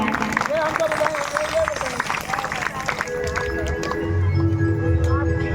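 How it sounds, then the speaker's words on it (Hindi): Audience clapping at a devotional Krishna leela performance, a steady dense patter of many hands running throughout, mixed with crowd noise and a voice over the top. "बाबा के लिए जोरदार तालियां एक बार"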